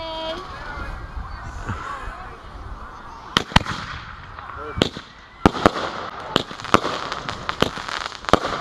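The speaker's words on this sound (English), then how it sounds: "that one was called Blonde Joke. Was the name of the firework." A Blonde Joke consumer firework goes off in a string of sharp, loud cracking bursts at irregular intervals, with crackle between them, after a murmur of voices and a whistling launch at the start.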